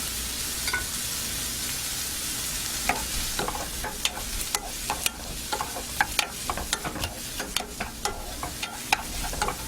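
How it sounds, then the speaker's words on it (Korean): Bell pepper and bacon stir-fry in a pan, with a continuous sizzle and frequent sharp clicks and scrapes from the utensil against the pan, steady and close throughout with no talking. "현피망 베이컨을 넣어서 볶아주겠습니다"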